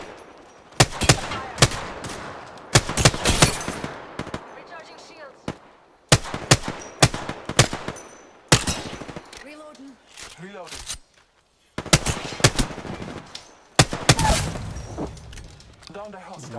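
Rapid video-game gunfire bursts in repeated loud volleys, mixing automatic fire and single shots with brief pauses between clusters, while players talk over the action.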